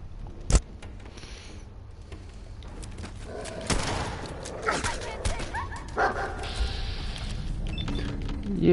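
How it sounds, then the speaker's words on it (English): Gunfire in the video game Fallout 4 opens with one sharp, close crack, followed by scattered fainter shots and impact noises over a low game background. "is that gunshots going by my head?"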